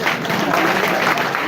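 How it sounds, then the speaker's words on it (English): Applause from the audience at a live Bobi Wine event, a dense loud burst of clapping from the crowd for the whole brief moment. "Please give him a round of applause."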